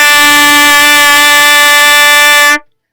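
Using first and second valves, a trumpet sustains an E as a single loud, steady brassy tone, then stops abruptly near the end, leaving silence.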